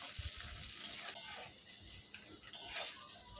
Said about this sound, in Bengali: কেটে রাখা আলুটা ভালোভাবে তেলে কিছুক্ষণ ভেজে নেব